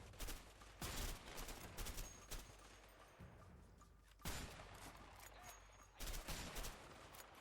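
Short rattling bursts of automatic gunfire in the video game A Way Out, several rapid volleys separated by quieter stretches, fairly faint and with no talking over them.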